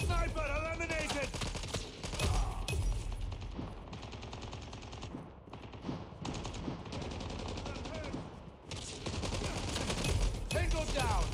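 Rapid automatic gunfire in Call of Duty Mobile rattles in long, dense bursts, close and steady with brief pauses and sharper shots at the end, while a player talks over it.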